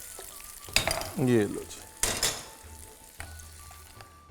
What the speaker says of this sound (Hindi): और ये लग गया चटनी को तड़का।